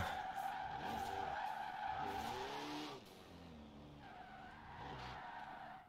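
Tires skid and squeal continuously as a car drifts through a drift zone in Forza Horizon 4 with a wheelspin drift build, a steady loud screech with pitch sweeps that eases slightly partway through.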